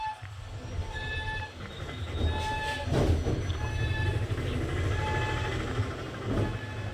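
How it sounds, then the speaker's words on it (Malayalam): A train in the Indian Bikes Driving 3D video game gives a steady, loud rolling rumble with faint tonal hums, running continuously without a break. "ട്രെയിൻ ഫ്രണ്ടിലോട്ട് വരാണോ?"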